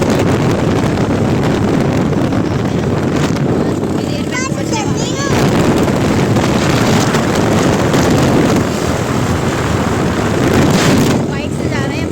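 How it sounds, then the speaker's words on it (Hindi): Motorbike riding along a road, with loud, steady wind rushing over the microphone the whole time and a voice faintly present beneath it. "बाइक से जा रहे हैं, बाइक से आवाज़ भी आ रही होगी काफ़ी"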